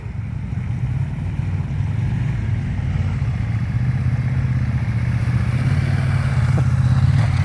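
Dirt bike motorcycles on a Snowy Mountains trail ride produce a continuous rough engine drone that builds gradually in loudness as the bikes approach, with no talking.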